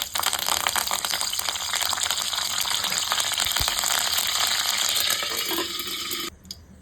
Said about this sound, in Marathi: आता फोडणीसाठी मी आता कढीपत्ता घालते